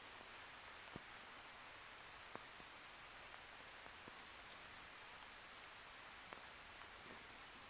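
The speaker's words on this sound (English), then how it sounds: "It's raining where I'm at." Steady rain falling outdoors, a soft continuous hiss with occasional sharper drips and taps of drops hitting a surface, faint and even throughout with no voices.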